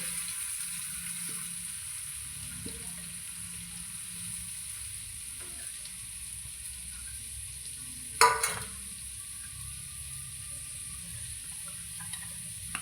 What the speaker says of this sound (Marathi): राईनंतर हे थोडंसं जिरं टाकून घेते नंतर हा कढीपत्ता टाकते कांदा टाकते